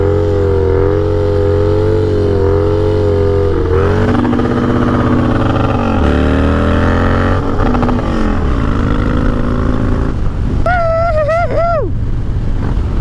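A Harley motorcycle engine revs hard and steadily through a wheelie, a loud, close, continuous roar whose pitch rises and falls with the throttle, climbing sharply in quick bursts near the end.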